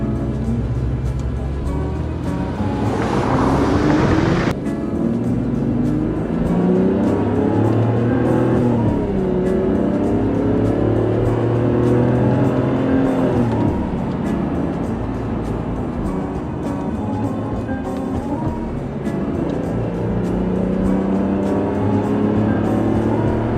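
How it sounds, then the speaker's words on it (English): A V12 engine in an Aston Martin DB7 Vantage runs steadily and close up, with a loud continuous drone and a brief surge of higher-pitched revving near the start, then holds a sustained, layered hum. "Such a glorious sound on this beautiful V12 engine."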